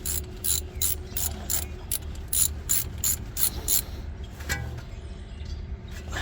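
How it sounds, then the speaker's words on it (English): A hand ratchet tightening a brake caliper bolt during a front brake pad change, close and crisp rapid clicking in quick bursts of strokes, with short pauses between them. "get a ratchet and you could start with the top"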